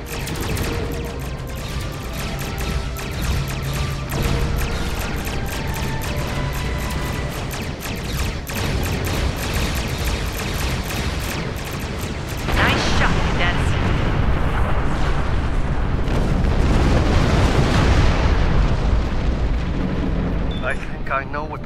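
Starship weapons fire and explosions in the Star Trek Online space combat game, a loud continuous barrage of blasts and booms that swells in density partway through, layered with music and game noise.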